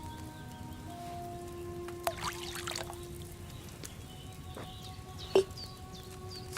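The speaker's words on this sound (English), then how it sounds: "First, you have to pour the right base into the cauldron." Liquid base is poured into a cauldron in a video game, a soft trickling pour with a few faint splashes and a sharper drip near the end, fairly quiet with no talk.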